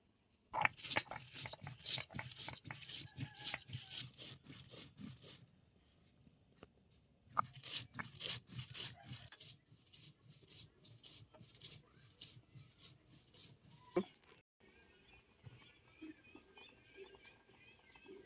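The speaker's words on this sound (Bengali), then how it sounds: "অল্প জল দিয়ে একসাথে সব ভালো করে বেটে নেব।" Dried red chillies, cumin and coriander seeds are ground with a little water on a stone, a close, rhythmic scraping and rubbing in repeated strokes with a few short pauses.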